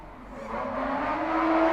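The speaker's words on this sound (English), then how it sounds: "I love Alexis Harris's car. It sounds amazing." A drift car's engine revs and climbs steadily in pitch at a drift championship practice session in Cyprus, loud and close with a rising whine and no voices.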